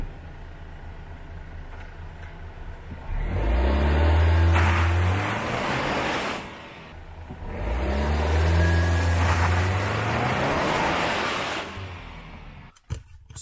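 A 2019 Volvo XC40 in dynamic mode launches hard and accelerates, its engine note climbing loudly, dropping at a gear change, then rising strongly again before easing off.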